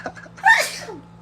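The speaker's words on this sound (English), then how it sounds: "She said, "Achoo."" A single sharp human sneeze bursts out close to the microphone, brief and loud against a faint background hum.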